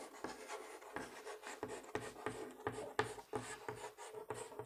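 A Pythagorean theorem formula is handwritten during a class 10 trigonometry lesson, with steady, close scratchy strokes and short pauses between them, continuing for several seconds without talk.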